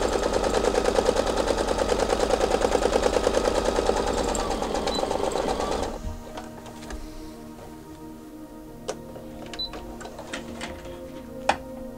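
A sewing machine runs fast and steady, stitching fabric for a turban-style headband for about six seconds, then stops, leaving only faint handling clicks and taps.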